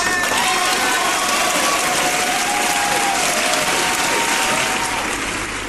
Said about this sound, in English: I will give you a round of applause.